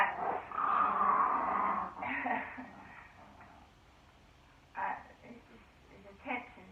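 Max the dog whimpers and whines for attention in soft, high bursts: one longer whine at the start, then shorter yelps a few seconds apart, close by and fairly quiet.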